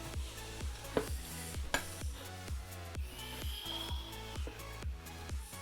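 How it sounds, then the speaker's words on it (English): A spoon stirring puffy slime, giving a steady, rhythmic squelching and scraping roughly twice per second, close and fairly soft, with no talking. "you gotta keep stirring a little bit more"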